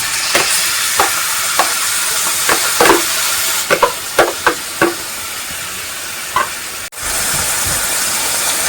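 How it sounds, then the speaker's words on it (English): Minced meat frying in a pan, a loud continuous sizzle and hiss with repeated scraping stirs and spatula taps throughout, briefly dipping near the end. "We have to fry it first."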